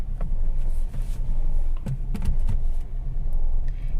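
A Kia Picanto R engine idling unstably, a steady low rumble that wavers and surges unevenly, heard close up with a few faint clicks and knocks over it.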